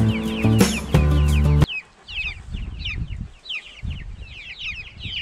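A busy chorus of about 40 small chicks peeping rapidly and continuously, following a short, loud burst of noise at the start.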